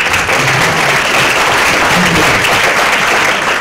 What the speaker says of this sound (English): Perhaps another round of applause.